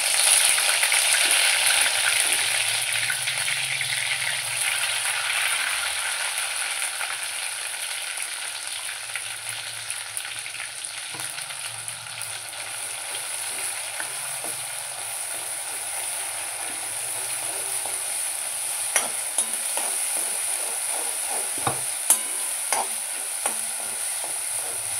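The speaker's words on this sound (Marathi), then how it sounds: "मसाला मस्त फ्राय करून घेऊया।" Ground masala paste frying in oil with cinnamon and spices for a chicken gravy, a steady loud sizzle and hiss running throughout, with occasional faint stirring scrapes and no speech.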